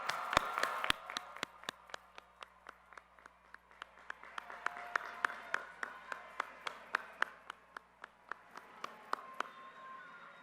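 At a high school graduation ceremony for the class of 2020, scattered clapping from a sparse audience rings out as distinct, separate claps in an uneven rhythm over a quiet background.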